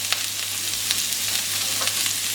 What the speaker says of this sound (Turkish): Ara ara karıştırarak yüksek ateşte dış yüzeyleri hafif kızarmaya başlayıncaya kadar 2-3 dakika kavuracağız öncelikle